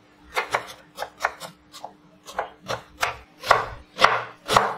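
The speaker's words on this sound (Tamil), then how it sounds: "இந்த ஒரு பெரிய வெங்காயத்தை நல்லா பொடிசு பொடிசாக கட் பண்ணி எடுத்துக்கலாம்" A knife finely chopping a large onion on a board, giving a steady run of about a dozen sharp, close cutting taps in quick rhythm, with no voices.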